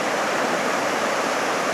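Steady broadband rush of a creek flowing near caves and cliffs on a cold, rainy day, a constant close hiss of moving water with no pauses.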